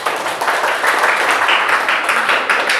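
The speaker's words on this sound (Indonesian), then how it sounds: "Oke, terima kasih, tepuk tangan." A classroom of students applauds together, steady dense clapping filling the room at close range, loud and continuous with no talk over it.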